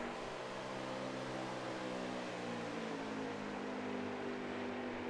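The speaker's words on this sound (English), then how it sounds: "that 17 truck just is driving away" A race truck in a CRL Truck Series Ford EcoBoost 200 race drives away, its engine a steady, faint mechanical drone with continuous broadband roar and no talk.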